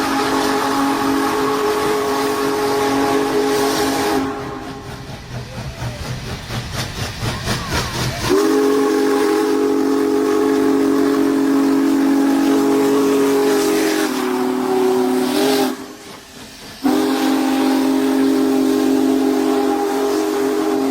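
A steam train lets out a loud, sustained steam whistle that runs for several seconds, breaks off briefly, then sounds again, set against a rushing hiss of escaping steam and the clank of the railway.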